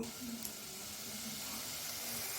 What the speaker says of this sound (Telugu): ఆనియన్స్ని బాగా ఫ్రై చేయాలి, బ్రౌన్ కలర్ వచ్చేలాగా ఫ్రై చేయాలి